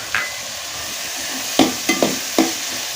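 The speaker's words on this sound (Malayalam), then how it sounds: "അതിലേക്ക് തക്കാളി ചെറുതാക്കി എരിഞ്ഞതും ഉരുളക്കിഴങ്ങ് ചെറിയ കഷ്ണങ്ങളാക്കിയതും പച്ചമുളക് നീളത്തിൽ കീറിയതും ചേർത്ത് കൊടുക്കുക" Tomatoes, potatoes and slit green chillies hit a hot pan, giving a few sharp clatters and stirring knocks over a steady low sizzle, close and moderately loud with no talk.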